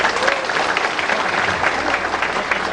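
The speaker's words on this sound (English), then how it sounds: "a huge round of applause for the Mizo Cultural Troupe" Dense audience applause for the Mizo Cultural Troupe at an Anglo-Kuki War centenary commemoration event, a steady, loud wash of many hands clapping throughout with no letup.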